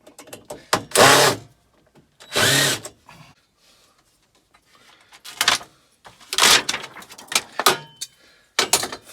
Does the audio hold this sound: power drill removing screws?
yes